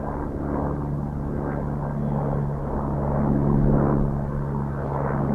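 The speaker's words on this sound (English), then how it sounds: "There's a helicopter flying over us." A constant droning engine hum with steady low tones passes overhead, like a news helicopter flying by at a distance over a remote mountain area.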